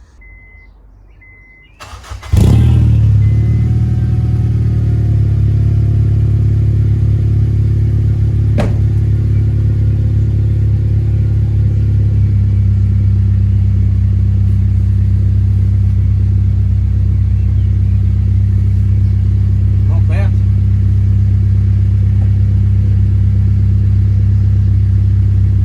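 A Honda Civic EP3 Type R with an oval 3-inch cat-back exhaust and decat cranks briefly and fires up, then settles into a loud, steady, deep idle rumble close by that continues for over twenty seconds.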